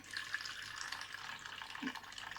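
Excess soaking water being poured off rice for matar pulao, a faint continuous trickle and splash of water in a home kitchen with no talk.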